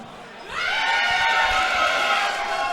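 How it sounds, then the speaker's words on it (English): A boxing crowd rises into loud, sustained cheering and whooping as a fighter named Reynolds gets them going, swelling suddenly after a quieter moment and holding at a high level. "Reynolds getting the crowd going."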